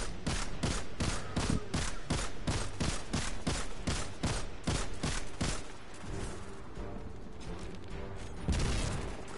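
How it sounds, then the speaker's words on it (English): Gunfire in the Destiny 2 video game: a rapid, evenly spaced volley of loud shots that slows and thins into scattered booms and mechanical clatter, with one heavier blast near the end. "I'll shoot from over here."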